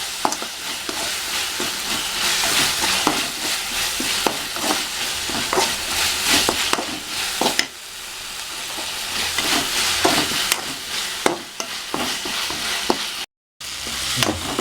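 Masala with turmeric, chili powder and garam masala sautéing for a bread bajji filling: a sustained loud sizzle, with repeated spoon scrapes and taps against the pan throughout and one brief dropout near the end.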